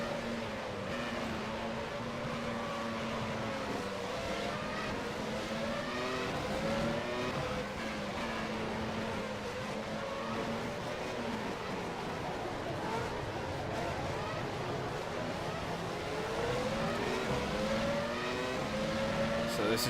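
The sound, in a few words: 1996 Formula 1 cars racing, rFactor 2 video game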